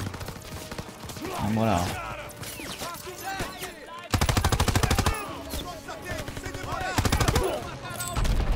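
Bursts of rapid automatic gunfire from a weapon in Call of Duty WW2, loud and close, mixed with shouted voices and game action.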